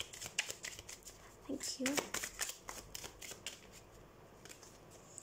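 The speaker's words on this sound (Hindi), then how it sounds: "तो सबसे पहले हम कार्ड शफल कर लेते हैं।" Tarot cards shuffled by hand close up, producing repeated crisp riffling and flicking bursts, with a brief spoken phrase in the middle.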